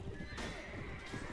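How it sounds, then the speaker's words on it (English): A horse neighs in the medieval battle video game A Clash of Kings, a drawn-out whinny sitting in dense, noisy in-game battle ambience. "Look at this horse."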